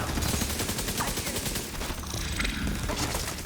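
Sustained gunfire from The Division 2 video game, a dense continuous burst of rapid shots filling the whole stretch, loud and close with a faint voice underneath.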